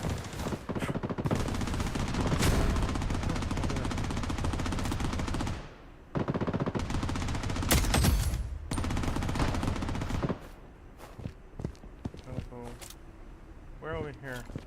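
Sustained rapid gunfire in the Bloodstrike video game, loud and dense for several seconds, then scattered sharper single shots near the end, with talk in the clip.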